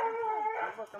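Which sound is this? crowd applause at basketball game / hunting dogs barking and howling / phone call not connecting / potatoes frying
hunting dogs barking and howling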